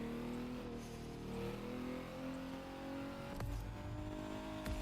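Racing car engine in The Crew 2 driving fast, a steady high-pitched drone with harmonics shifting as it speeds along, loud and continuous, with a sharp burst of noise near the end.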